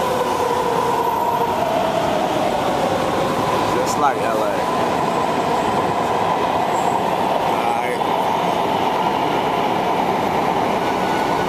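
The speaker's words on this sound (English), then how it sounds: "I'll be taking the train." Atlanta subway train in motion, a loud continuous rumble and rattle of wheels on track heard from inside the car, with a person briefly speaking over it.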